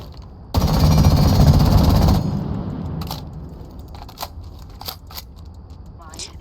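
Automatic gunfire from a video game rifle fitted with a flash hider, a loud dense burst of rapid shots lasting about a second and a half, then a trailing echo and a few faint scattered clicks.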